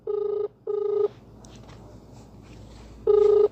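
Three bursts of a telephone ringback tone, two close together and a third after a pause of low background noise, each a steady buzzing pulse heard alone on a call that is being redialed.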